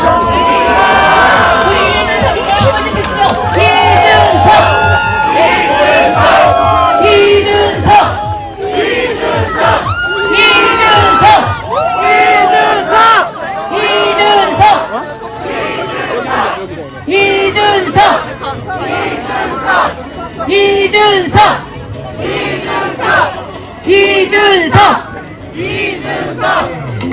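A large crowd at a South Korean political rally roars with sustained cheering and rhythmic shouted chants, loud and dense throughout, swelling in repeated bursts.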